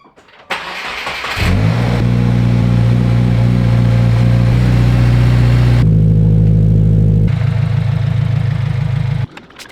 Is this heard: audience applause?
no